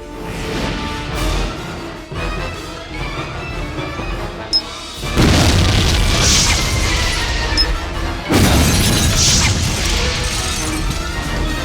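A bomb goes off in a Thai TV action drama, heavy crashing blasts bursting out loud and sudden at two points over tense background sound.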